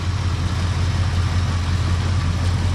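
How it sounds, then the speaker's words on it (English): A 1959 326 cubic inch V8 idles after sitting cold, a steady, close, low rumbling throb with even pulsing and no talk over it. "That is a 326 cubic inch engine, for those of you guys that don't know."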